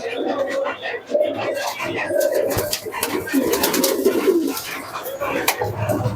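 Pigeons in a shop coo in overlapping low murmurs throughout, near and fairly loud, while someone talks over them.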